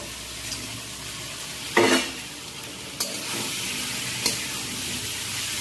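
Paneer cubes stirred into a spiced masala frying in oil in a pan, giving a steady close-up sizzle throughout with three sharper bursts of stirring and scraping spaced about a second apart, and no talking.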